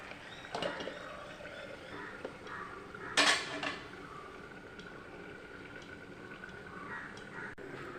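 A metal lid goes onto a pot of cooking fish with a short, sharp clatter, amid faint quiet clinks of utensils and a low background hum.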